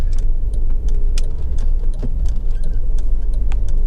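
A Honda Civic 1.8 i-VTEC petrol engine runs steadily at operating temperature, a low continuous hum with light ticking and clicking on top, close and even throughout, with no voices.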